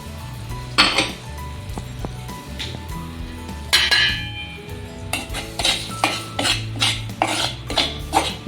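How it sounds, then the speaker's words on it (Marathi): A spatula stirs wheat flour roasting in ghee in a metal pan for laddus, giving repeated close scraping and clinking strokes, sharper and more rhythmic toward the end, with no talk. "हे पण मी याच्यामध्ये भाजून घेणार आहे या तुपामध्येच"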